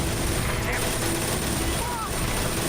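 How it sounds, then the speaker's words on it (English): Rapid gunfire from a gun in a Metal Gear video game, a dense continuous burst of shots over game noise with a person talking over it. "Oh, shoot the log. I was shooting it!"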